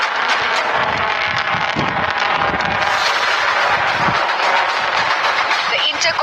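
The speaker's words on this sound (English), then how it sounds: "The U.S. tests its doomsday missile." Minuteman III intercontinental ballistic missile test launch off the California coast, a loud continuous rumbling roar with crackling bursts that holds steady, heavy and sustained from start to finish.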